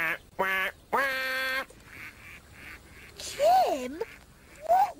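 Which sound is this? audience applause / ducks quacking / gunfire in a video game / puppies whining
ducks quacking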